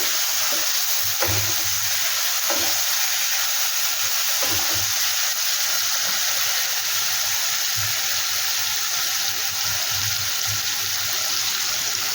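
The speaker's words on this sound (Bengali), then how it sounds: "মশলাটা দিয়ে দিলাম, আর এই যে 4টে কাঁচা লঙ্কা চেরা ছিল এটা দিয়ে দিলাম, দিয়ে তাকে একটু কষিয়ে নেবো।" Spices and slit green chilies sauté in a pan with a steady, bright hiss. Low, irregular knocks and scrapes of stirring run through it, and no one speaks.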